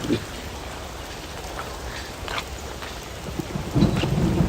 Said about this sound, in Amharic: ዝናብ እየዘነበ